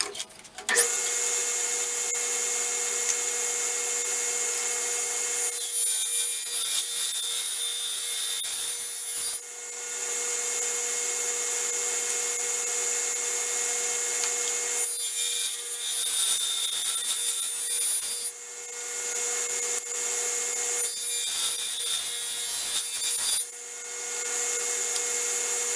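A saw blade cuts a taper in wood using a taper jig while building a chair. A steady high whine runs throughout, with three louder rasping cutting passes, each several seconds long and close by.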